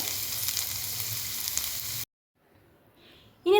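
Home-grown spinach sautés in a hot pan with a steady close sizzle for about two seconds, which then cuts off abruptly into near silence.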